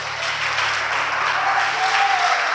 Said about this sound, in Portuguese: E as palmas continuem louvando e adorando ao Senhor Jesus